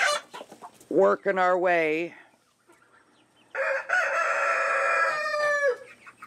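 A white naked neck rooster crows loudly nearby in two long, strained calls separated by a short pause, with a few words spoken in between.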